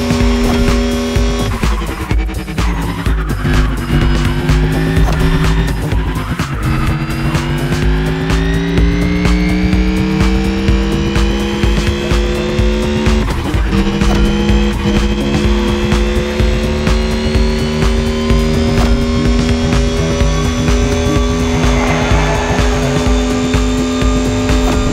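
The Mercedes EQ Silver Arrow, a fully electric race car, in a supercar festival race in The Crew Motorfest, gives a loud, continuous rising whine with gliding pitch shifts and occasional tire squeal.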